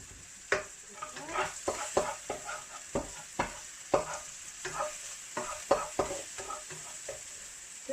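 Cracked eggs and cream are stirred in a bowl for scrambled eggs, with repeated quick scraping and tapping of a utensil in an uneven rhythm, fairly quiet and close.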